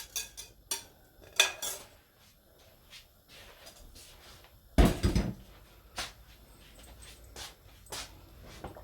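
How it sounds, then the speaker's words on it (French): Spoon stirring harira soup in a pot, heard as scattered clinks and scrapes of metal against cookware, with one louder clatter midway and quieter knocks throughout. "Je mélange tout ça."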